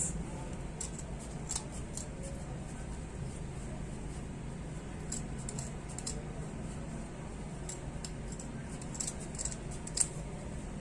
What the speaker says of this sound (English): I'm going to get my scissors and I'm going to be cutting off